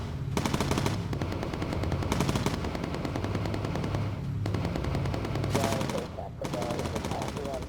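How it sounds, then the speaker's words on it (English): .50 caliber machine guns on a bomber in the game Bomber Crew fire in long, dense, loud bursts, rapid heavy reports separated by brief pauses, with a voice speaking over the gunfire. "I do like the sound of the 50 cals in this"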